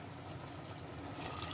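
About 1.5 cups of water pour steadily into a pot of dal and bottle gourd, a continuous splashing trickle with no voices, close and fairly quiet.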